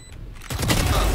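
Rapid gunfire rings out in a Valorant match on the Pearl map, a quiet lead-in giving way to a loud, dense burst of shots that keeps rolling to the end.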